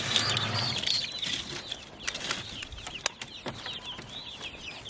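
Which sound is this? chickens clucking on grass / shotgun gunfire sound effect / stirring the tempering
chickens clucking on grass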